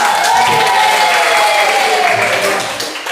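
Classroom applause during a teacher's performance exam, a burst of clapping from the students with voices and cheers mixed in, tapering off toward the end.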